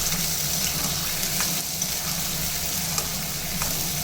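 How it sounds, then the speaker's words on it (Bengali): Onions frying in a pan for khichdi, added after whole cardamom, cloves, cinnamon and bay leaf were tempered in the oil: a steady, close, dense sizzle that continues evenly throughout with no talking. "পেঁয়াজটা একদম লাল করে ভেজে নেবে"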